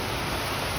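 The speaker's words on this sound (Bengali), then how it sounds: "এখন বাইরে তুমুল ঝড় বৃষ্টি হচ্ছে" Heavy rain in a thunderstorm pours outside, a dense, even hiss of broadband noise that holds steady and fills the whole brief moment, with no voices.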